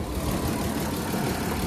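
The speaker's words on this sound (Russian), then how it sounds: "Двигатель у нас работает нестабильно" A Volkswagen Touareg engine with a fault, running unstably and smoking heavily, idles with a rough, uneven rumble, close and steady, with no voices over it.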